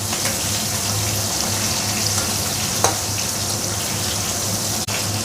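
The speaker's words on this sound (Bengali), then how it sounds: "এক পিঠ ভাজা হয়ে গেছে, আর এক পিঠ ভেজে নেব।" Koi fish fry in hot oil, a steady, close crackling sizzle that holds evenly throughout, with a faint low hum underneath and a couple of brief clicks or clatters.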